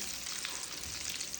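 Steady sizzling of food frying over high heat in a pan, a dense continuous crackle at moderate level with no voices.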